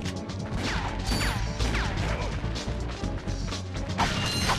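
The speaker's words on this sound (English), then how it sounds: "Hit someone with wrenches" In the video game Ratchet & Clank, a wrench smacks into robot enemies amid a dense, loud clatter of mechanical clanks, crashes and ratcheting game effects.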